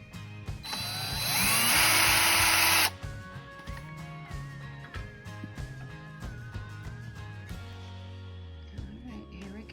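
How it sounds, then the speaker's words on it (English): A power drill backing screws out of trim on a thrift-store dresser, a loud whirring burst that rises then cuts off, followed by quieter intermittent motor whine, clicks and rattling handling noises nearby. "We'll go ahead and unscrew those and see what it looks like after we get this trim off."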